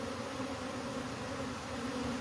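A swarm of bees gathers on a fence during removal of a hive from a cable box, making a steady, fairly faint buzzing hum with no voices.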